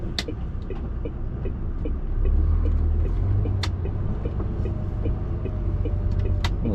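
A delivery truck slowly driving in toward a business, its engine a steady low rumble that deepens and grows louder midway, with occasional faint clicks and knocks over the drone.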